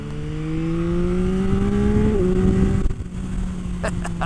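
A three-cylinder motorcycle engine revs up with a rising, throaty tone, holds high, then drops off, followed by a few quick sharp blips; loud and close.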